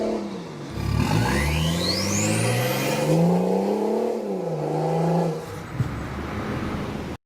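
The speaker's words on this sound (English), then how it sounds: "It's like still got that hint of diesel in it, that diesel sound" A BMW X6 diesel engine revs up and down in a few rising and falling sweeps, a whine climbing above it, close and fairly loud with no talk.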